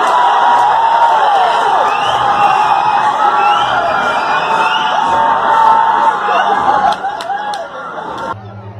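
A large crowd cheers loudly and continuously, with whoops, yells and jeering shouts layered into a dense roar that cuts off near the end.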